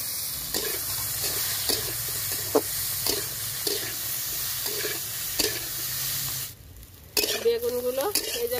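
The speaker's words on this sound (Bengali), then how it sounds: "আর এখন এই তেলের ভিতরে বেগুনগুলো ভেজে নেব।" Brinjal slices rubbed with salt and turmeric fry in hot oil in a kadai, giving a steady sizzle broken by repeated stirring scrapes, a short pause, then a brief voice near the end.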